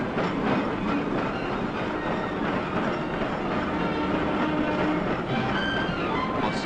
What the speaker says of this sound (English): While electric trains serving the suburbs roll in and out of this station